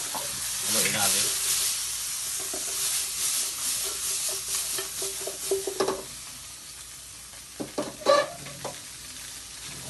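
Lapu lapu fish fillet sautéed with carrots, pepper and wine, stirred in a hot pan: continuous sizzling and frying with scraping utensil strokes and a few louder knocks near the end.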